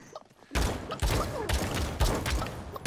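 Repeated bursts of automatic gunfire in the battle royale game Realm Royale, several loud broadband volleys in quick succession over about two and a half seconds, with no talk.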